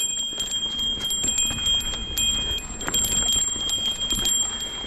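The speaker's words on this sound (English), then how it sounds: "I'd probably activate my timber bell" A timber bell on a mountain bike jingles steadily with a bright, sustained ring while riding a forest trail, with soft rattles and clicks from the trail underneath.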